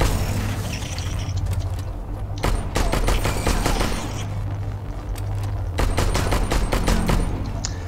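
Loud bursts of rapid gunfire in the video game StarForge, several volleys separated by brief pauses over a constant low background hum.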